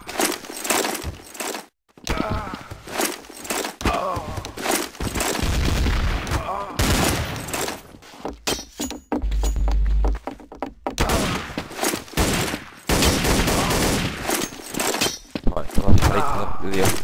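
Bursts of gunfire crack on a Counter-Strike: Source knife map, arriving in uneven clusters separated by short silences, with a voice talking in Spanish in between and over the shots.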